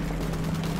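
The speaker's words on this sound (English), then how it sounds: "Let's get ourselves an amped up machine gun here." An amped machine gun fires in the shooter game Titanfall, a dense rapid burst of automatic gunfire that is loud and continuous for under a second.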